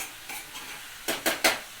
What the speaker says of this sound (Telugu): ఇప్పుడు చికెన్ వేసుకొని బాగా కలుపుకోవాలి. కింద కింద కలుపుకోవాలి.